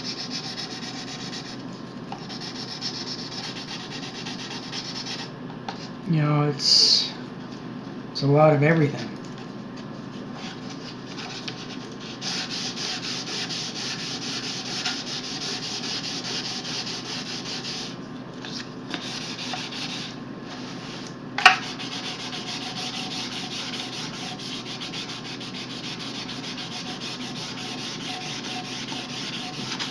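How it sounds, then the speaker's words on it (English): Steady hand sanding of a wood guitar body during a custom build, a continuous rough rubbing that runs throughout, with a few brief sharper scrapes and a quick spoken remark early on. "how do I know when I'm done sanding?"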